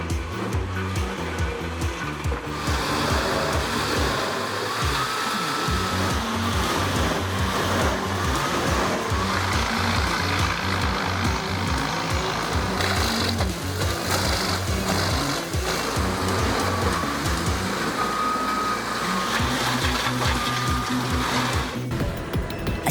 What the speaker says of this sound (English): It's perfect for chipping tree crowns and logging leftovers, and it's powered right by the truck engine.